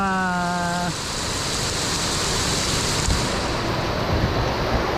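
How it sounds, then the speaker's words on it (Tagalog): Rain falls steadily on an open farm field, a broad continuous hiss that holds level throughout, with a brief tonal hum fading out in the first second. "Umulan pa."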